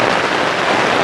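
Rain falls steadily at a campsite, a dense, loud, even hiss of drops on surfaces with no pause in the short stretch.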